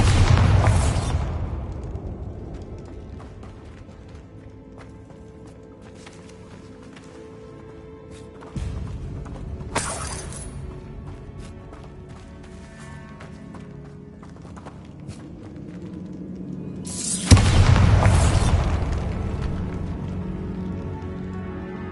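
A Bombarda blasting spell goes off in Hogwarts Legacy, a loud explosive burst at the start, then a second broad blast near the end, with rumbling game ambience and smaller effects in between.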